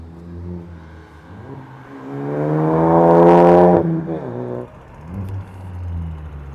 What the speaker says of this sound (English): What's your guys' thoughts on the sound of his car?